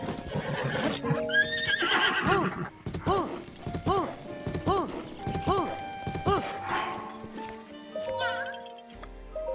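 In the video game Breath of the Wild, a horse gives repeated loud whinnies and snorts in quick succession, with hooves clip-clopping underneath and game sounds layered over it.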